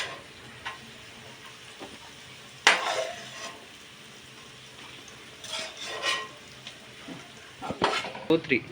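Onions fried in oil in a pan, heard as a low background sizzle broken by several loud utensil scrapes and clatters against the pan, some clustered toward the end.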